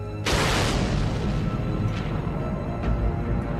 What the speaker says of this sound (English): A horrendous explosion in the sky.